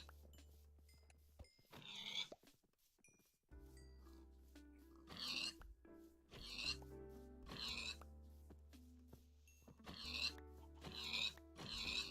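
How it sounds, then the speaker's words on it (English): Pigs oink repeatedly in the video game Minecraft, several separate squealing grunts spread across the stretch over steady background game music. "this is an absurd amount of pigs"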